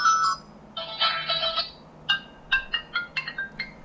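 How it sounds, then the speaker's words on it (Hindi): A Calme C107 mobile phone ringtone plays a bright electronic melody, a chiming phrase followed by a run of quick beeping notes, clear and close. "जी, इस डिवाइस के साथ 3 रिंगटोन डाली गई हैं।"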